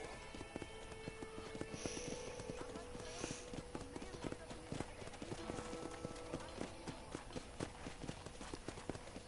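Horse hooves clip-clop in a steady, even rhythm at a ranch corral in Red Dead Redemption, playing continuously under ongoing conversation.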